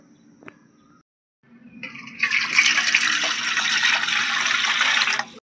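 Raw mangoes being washed under running water: a faint tap and drip at first, then a steady, loud gush of water splashing over the fruit for several seconds before cutting off.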